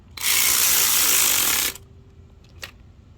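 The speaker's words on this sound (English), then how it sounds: "Now I'm gonna tighten up the bolts." An electric ratchet tightens bolts during a timing belt job on a 3rd-gen Eclipse GTS, one loud, steady whirring burst of about a second and a half, then a short click in the quiet afterward.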